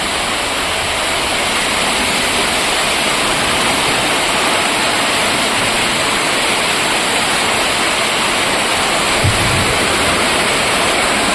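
Floodwater surrounding a submerged house makes a loud, continuous rushing roar like a waterfall, steady and broadband throughout, with no talking.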